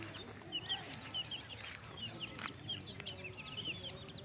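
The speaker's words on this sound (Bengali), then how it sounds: "মুরগির বাচ্চা।" Chicks cheep in high, repeated peeps while hens cluck softly in a foggy rural yard, a fairly quiet, busy mix with faint background noise and no clear speech.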